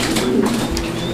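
Fancy pigeons in a cage give a low, brief coo, close and fairly loud against a busy background.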